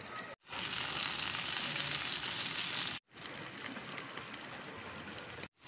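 Dried fish and egg fry in a pan with a dense, steady crackling sizzle, close up, briefly cut off twice, with no one talking.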